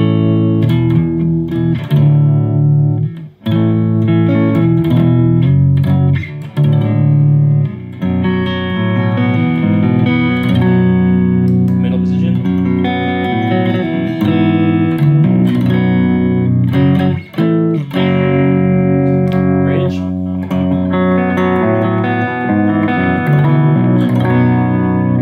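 Electric guitar through a Caline Enchanted Tone overdrive pedal at maximum gain, with softly picked notes and sustained chords ringing with gritty, saturated tone and brief pauses between phrases.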